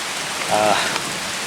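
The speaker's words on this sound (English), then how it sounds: "It's starting to rain." Rain falls outdoors as a steady broadband patter, close and fairly loud, with a brief voice-like murmur in the middle.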